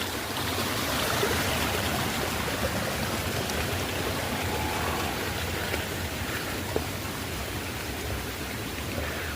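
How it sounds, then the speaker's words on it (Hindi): A heavy torrent of water rushes in a steady, loud, broadband roar behind village houses in a landslide-hit hill village, continuous and close with no talk. "गांव के घरों के ठीक पीछे ये भयंकर वाला पानी जा रहा है।"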